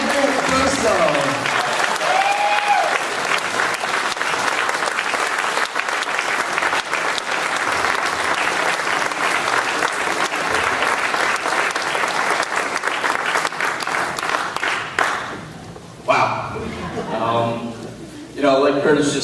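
An audience applauds steadily for a newly introduced senior manager, Michael Russo, at a business gathering, the clapping loud and sustained before thinning out near the end, with a voice speaking over it.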